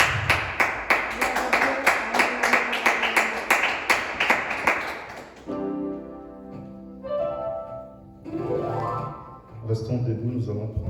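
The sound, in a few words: church congregation clapping and applauding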